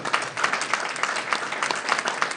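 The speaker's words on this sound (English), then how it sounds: "Give a big round of applause for our volunteers if you will" An audience at an Elks lodge hypnotism show applauds its volunteers, a steady dense wash of many hands clapping, fairly loud and continuous with no talking over it.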